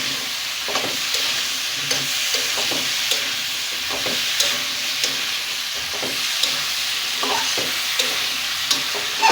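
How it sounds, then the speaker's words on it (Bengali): Fried prawns are stir-fried with cucumber and spices in a pan: a constant close sizzle broken by repeated knocks and scrapes of a spatula against the pan at an uneven rhythm, with no one talking. "একসঙ্গে কষিয়ে নিয়ে তারপরে ঝোল দিয়ে দিবি।"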